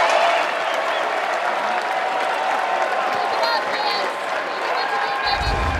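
A baseball crowd claps and cheers steadily for a leadoff single at a Super Regional game between Arkansas and North Carolina, a loud, sustained wash of applause that holds for several seconds.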